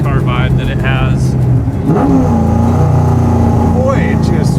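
A 1967 Ford FIA Fastback Mustang with straight-through mufflers revs loudly up close, its engine note climbing and dropping in a couple of sharp throttle blips over a rumbling idle, with people talking over it.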